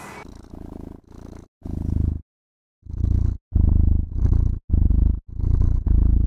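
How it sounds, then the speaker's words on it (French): Simulated cat purring from a website, a loud close rumble in a regular rhythm of breaths with one longer silent gap partway through. "les ronronnements de chat"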